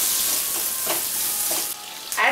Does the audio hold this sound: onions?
yes